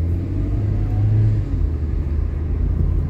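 A car engine rumbling steadily up close as a learner driver adds gas on a city street, a low even drone with a slight rise partway through.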